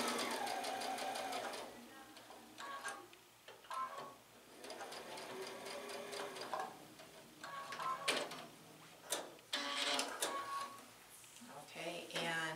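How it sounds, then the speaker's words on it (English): A sewing machine stitches a quilt block seam, its steady mechanical whir and needle chatter running in stretches with brief stops, while a person talks over it. "I will go from the outside in and go up to but not through my stitching, and again I'll back stitch."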